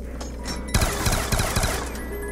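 Rapid bursts of SMR gunfire in a zombies video game, a cluster of sharp cracking shots following a quieter opening, fairly loud and close with no talk.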